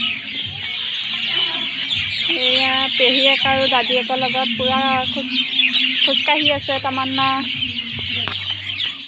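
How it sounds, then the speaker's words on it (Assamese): Chickens cluck and call in repeated short bursts outdoors on a rural family homestead, moderately close, while a person talks over them and birds chirp faintly. "এনেকা চৰাই মাত সহজতে শুনাই পোৱা নাযায় ইয়াত আহি ইমানে চৰাই আছে"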